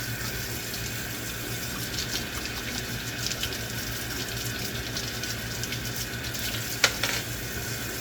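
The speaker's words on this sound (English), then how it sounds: "we just keep it under the water so it just gets a little bit of a rinse" Running water pours over brass rifle cases during cleaning, a steady hiss and trickle from a tap with faint clinks near the end.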